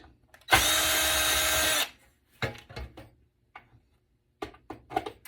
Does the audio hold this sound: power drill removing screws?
yes